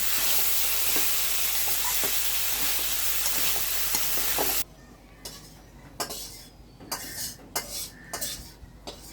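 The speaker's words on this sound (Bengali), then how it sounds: "ঢাকনাটা উঠে একটু নাড়াচাড়া করে নিচ্ছে" Bitter gourd and potato bhaji in a pan, loud continuous sizzling at first, then after the lid comes off, quieter frying broken by a series of spatula scrapes and clinks against the pan.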